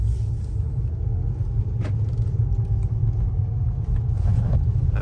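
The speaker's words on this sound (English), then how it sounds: "turn down the AC so we can hear the vehicle" Inside a 2008 VW R32 rolling slowly around a parking lot, a steady low engine and road rumble continues throughout, with keys jangling faintly now and then and no talking.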